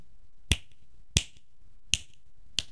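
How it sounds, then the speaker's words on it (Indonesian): Four crisp finger snaps, evenly spaced about two-thirds of a second apart, close and clear against a quiet background. "Dan ini jentikan jari."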